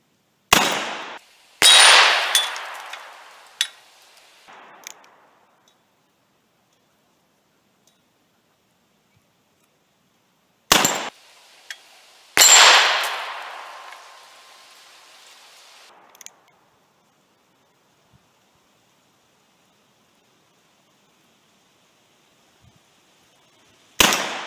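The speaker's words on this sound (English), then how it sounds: "We'll be shooting some 38s and some 357s" Revolver gunshots from a Colt Trooper Mark III firing .38 and .357 rounds outdoors, several loud sharp cracks spaced seconds apart, each trailing into a long decaying echo, with quiet gaps between and no talk.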